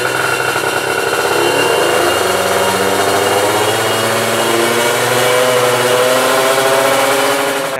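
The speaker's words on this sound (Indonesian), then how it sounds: "mau nyalain motor Ninja Gope meternya" A Kawasaki Ninja motorcycle with an aftermarket exhaust idles loud and close, its engine blipping and revving in uneven bursts over a steady throbbing rumble, with no voices.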